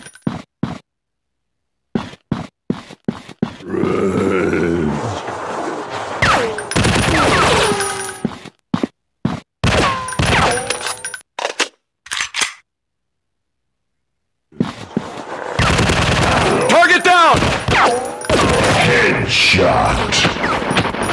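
Gunfire in the zombie shooting game Fire Strike, Industrial War level. Loud volleys of rapid shots and single cracks come in bursts separated by brief silences. Short announcer voice lines play between some of the bursts.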